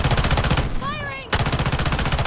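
Rapid automatic gunfire from the mobile shooter game Delta Force Mobile, loud and close in fast regular bursts, cut by a short gap where a sweeping electronic effect sounds before the firing resumes.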